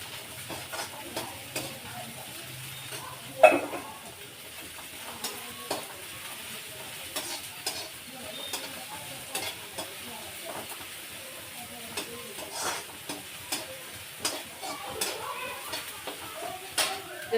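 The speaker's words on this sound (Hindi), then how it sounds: "जब तक हमारे आलू के प्याज भून रहे हैं और प्याज और छोंक हमारा भून रहा है" Diced potatoes and onions crackle and sizzle softly in a home kitchen pan with a tempering of spices, a low steady frying texture broken by scattered light clicks and one sharper clatter, with no one speaking.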